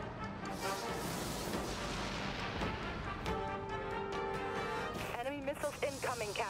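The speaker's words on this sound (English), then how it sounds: "Launching drain missile." A drain missile launched from a warship in the naval combat game Dreadnought, a booming artillery-like blast mixed with layered game effects and a voice speaking over it.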